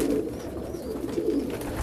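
Pigeons in a coop cooing softly and steadily, low murmuring calls repeating throughout with no talk.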